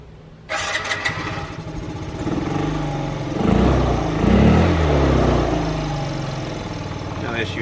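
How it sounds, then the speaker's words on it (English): A scooter engine is cranked and fires up, the starter catching abruptly and settling into a loud, close, steady idle with a slight rise in revs midway. "Alright, let's give her a quick turnover, see that battery works."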